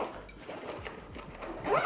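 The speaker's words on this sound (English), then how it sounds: "Zip that up" Zipper on a Lone Wolf tech backpack pulled closed in one continuous run, close and fairly loud, its ratcheting teeth rasping steadily for nearly two seconds with no talking.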